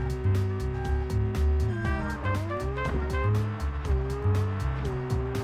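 A car in the video game Car Parking Multiplayer is driven at full throttle on a track with no assists or traction control. The engine drone rises and falls through repeated gear shifts.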